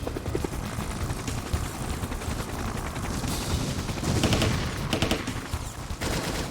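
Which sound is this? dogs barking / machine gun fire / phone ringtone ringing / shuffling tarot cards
machine gun fire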